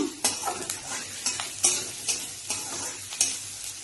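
Onions frying in a pan for a South Indian barati fry, a close steady sizzle broken by regular scraping stirs roughly every half second, no voices.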